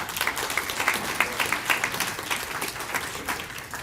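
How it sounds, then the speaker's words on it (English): Audience applause at a public announcement for an age-friendly city initiative in Worcester, a steady wash of many hands clapping at moderate volume, sustained throughout with no voices. "I want to give all of those folks a round of applause for making this happen"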